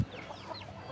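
A chicken clucks softly while feeding on sardines or bread, a brief faint cluck or two over a low background hum.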